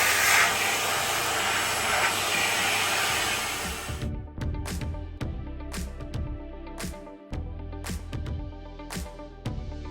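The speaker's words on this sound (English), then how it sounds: "Well, the final vacuum's done." A vacuum cleaner runs with a loud, steady roar aboard a sailboat during a winter refit, then cuts off abruptly partway through, leaving scattered clicks and knocks of gear being handled nearby.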